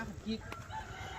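Rooster crowing in a farmyard, a short, faint call heard at some distance under steady low background noise, brief and partly masked.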